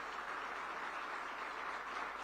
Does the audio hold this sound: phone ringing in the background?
no